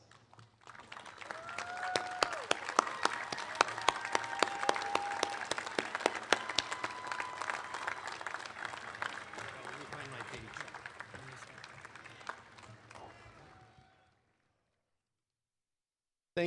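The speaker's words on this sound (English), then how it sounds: "Graduates, we ask that you stand and give them a big round of applause" At a university commencement ceremony, graduates stand and give a sustained round of applause, many hands clapping in a broad crowd wash with some voices and cheers mixed in, lasting about fourteen seconds before cutting to silence.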